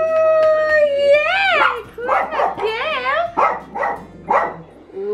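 A dog howls and yips in a run of wavering, rising-and-falling cries close by, loud and repeated over several seconds, with a person speaking briefly.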